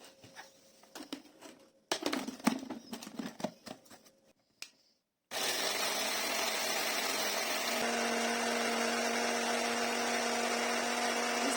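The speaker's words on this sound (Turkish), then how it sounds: "Bisküvilerin hepsini doğrayıcının içine alıyoruz. Un haline gelene kadar eziyoruz." A food chopper grinds stale biscuits into crumbs, starting with several short clattering pulses and then running as a loud continuous whirring grind that holds steady to the end, close by with no talk.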